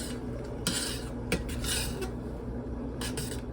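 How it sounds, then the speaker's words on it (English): Lentils cooking with garlic are stirred in a pot, giving a few soft scrapes and metal clinks at a steady pace against a constant low kitchen hum, with no talking. "And I'm going to give the lentils a stir."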